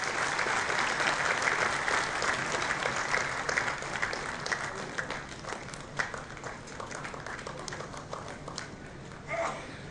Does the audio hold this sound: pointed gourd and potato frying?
no